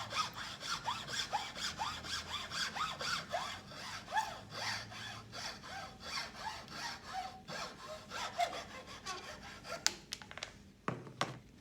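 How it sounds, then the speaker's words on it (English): A hacksaw cutting through the end of a wooden shovel handle clamped in place, with a steady run of rapid rasping back-and-forth strokes close up, finishing with a few uneven final strokes. "Hacksaw, and now let's do a nice close cut to the end of your handle."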